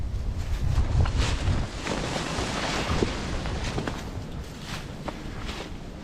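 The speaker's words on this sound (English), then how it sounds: "Hopefully once we get down in the little ravine, the wind should stop." Wind blowing through woods near a power line trail on hunting land, a steady close rush with deep rumbling gusts buffeting the microphone and faint rustles and footsteps underneath.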